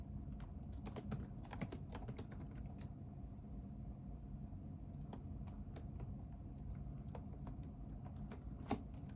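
Quick bursts of typing on a computer keyboard, crisp close key clicks in irregular clusters over a low engine-like hum, with a pause in the middle before more keystrokes.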